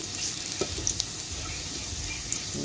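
Garlic frying in cooking oil in a pan, a steady close sizzle with occasional stirring clinks and pops, no talking.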